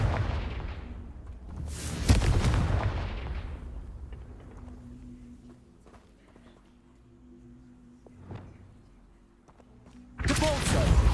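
Confringo spells in Hogwarts Legacy detonate as loud fiery bursts, one at about two seconds with a rumbling decay and another at the end, with quieter scattered impacts between.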